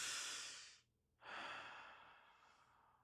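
A single deep breath during a guided meditation: a long, airy inhale, a brief pause, then a slow exhale trailing off quietly, close and alone without talk.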